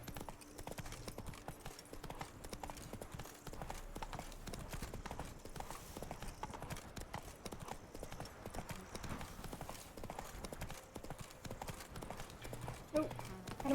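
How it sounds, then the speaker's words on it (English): Horse hooves clip-clop in The Witcher 3: Blood and Wine. The steady, rhythmic trotting runs the whole way through while someone talks over it. "Giddy up. Come on, Roach. You were supposed to follow the road"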